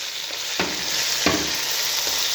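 Onions with salt frying in a pan for a cabbage and chicken dish, a steady close sizzle broken by a few scraping strokes of the spoon as the mixture is stirred.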